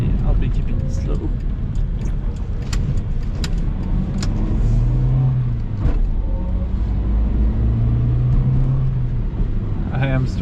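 A 1995 Mitsubishi Pajero Mini, low on fuel, creeps along at slow speed with a steady engine drone and road rumble that stays even in loudness throughout, with faint muffled murmuring in the background.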